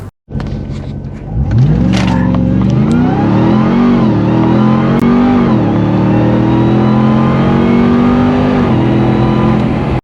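A 700hp RAM TRX truck's engine sounds loud and close, starting suddenly, then surging in repeated revving climbs and falls before holding a steady high drone while heading off-road.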